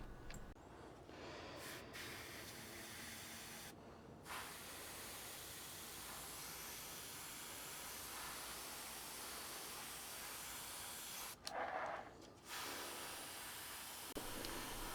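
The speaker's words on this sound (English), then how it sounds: "Here I'm airbrushing Games Workshop's Nurgle oil." An airbrush sprays thin Games Workshop Nurgle oil paint onto a model, a steady soft hiss running almost without pause, broken by a few brief gaps as the trigger is released.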